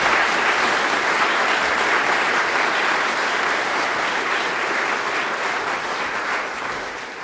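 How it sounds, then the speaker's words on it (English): Sustained applause from an audience at a city State of the City address honoring the council, loud and steady throughout, fading slightly at the end, with no talk over it. "A round of applause for the council."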